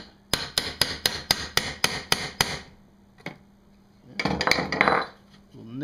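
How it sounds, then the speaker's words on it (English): A hammer setting a rivet through a washer on a PVC sheath for a Katana machete, about nine sharp metallic taps in quick even rhythm, then a lone strike and a brief cluster of busier tapping and handling. "You put your washer, the hole, so we can set that rivet."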